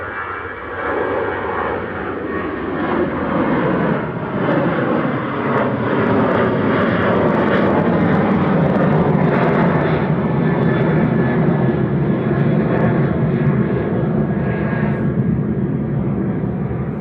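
A 23-year-old Airbus A320 jet coming over the runway threshold to land at Manchester Airport, a loud continuous engine roar and rushing whine that swells slightly and holds steady, close by, with no voices.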